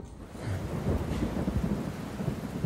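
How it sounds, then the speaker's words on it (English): Heavy rain pours steadily outside a leaking abandoned building under renovation, with deep thunder rumbling through most of the stretch, loud and continuous with no voices. "Yep, I hear the rain."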